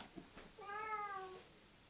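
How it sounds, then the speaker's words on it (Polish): A single drawn-out house cat meow, close and quiet, rising then falling over about a second in an otherwise calm room. "Rafałek, trzeba kota wypuścić."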